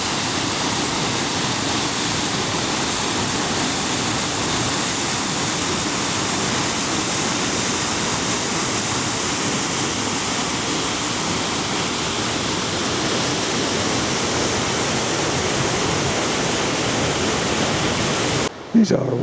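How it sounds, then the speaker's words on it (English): The second Mandor Cataract waterfall near Aguas Calientes, Peru, roars in a steady, loud, unbroken rush of water into a pool, with a brief disturbance right at the end. "We've arrived at the second cataract, second waterfall, which you can hear here."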